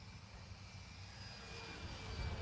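A Draco model airplane drones through an evening flight, its engine a faint, steady distant whine over broad background noise, swelling slightly toward the end.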